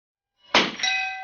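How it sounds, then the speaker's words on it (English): A steel gong on a snowy shooting range is struck by a shot from a very early pre-A Winchester model 52 rifle. A single sharp metallic clang is followed by a bright ringing that sustains to the end, with nothing else heard. "So I'm going to shoot 1 or 2 at the gong here before I do the geckos."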